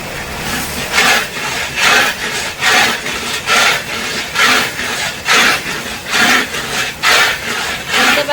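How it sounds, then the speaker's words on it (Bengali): A spoon or spatula stirs thick spice paste frying in a pan, making rhythmic scraping and rubbing strokes about once a second, close and steady, with no talk. "দেখছেন মা মশলাটা নাড়া দিয়েই যাচ্ছে"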